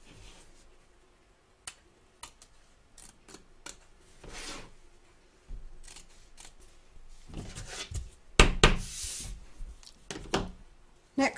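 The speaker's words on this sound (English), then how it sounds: "Trim away the excess fabric from both back and front of your hoop around the belt" Scissors trim excess fabric from the front and back of an embroidery hoop in scattered sharp snips and rustles. The cuts are close and intermittent, with a denser burst near the end and quiet gaps between.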